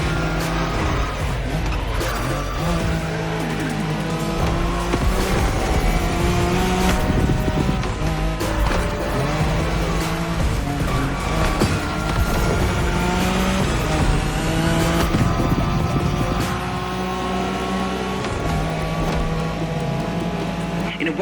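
A Nissan Skyline races flat out along the Tokyo Bayshore route in The Crew Motorfest, its loud, continuous engine drone rising and shifting in pitch through gear changes for the whole stretch, with voices intermittently over it.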